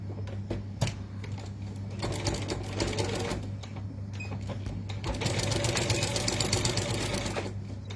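A sewing machine stitching quilt binding runs in a steady, close mechanical whir of rapid needle strokes, briefly pausing early on, then continuing and growing slightly louder toward the end, with no talking.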